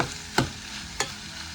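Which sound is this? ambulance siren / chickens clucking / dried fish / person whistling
dried fish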